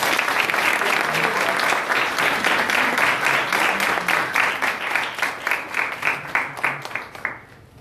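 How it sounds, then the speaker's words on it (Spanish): Audience at a bioethics and stem cell conference applauds steadily for several seconds, a dense, even wash of clapping that thins and fades into scattered claps near the end. "Les pido un aplauso"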